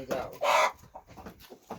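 Chickens cluck and chatter close by in short bursts, one louder squawk standing out among softer clucks.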